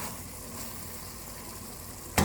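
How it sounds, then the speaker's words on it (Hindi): Ridge gourd curry simmering in its own liquid in a pan, a soft, steady bubbling sizzle throughout, ending with a brief louder clatter. "15 मिनट से हमारी तुरई पक रही है।"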